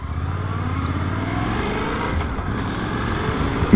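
A Suzuki V-Strom 800DE motorcycle engine runs at low speed through a slow 180-degree turn, a steady medium rumble with slight throttle changes, close and fairly loud, no talking.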